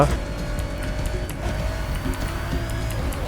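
A legendary underground race car roars in the racing game NFS Heat, its engine droning steadily with shifting tones over a constant loud wash of road and game noise.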